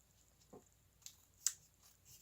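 Scissors snip through folded paper while cutting down the center of a paper swallow's tail, a few faint, sharp cuts spaced out in a quiet room.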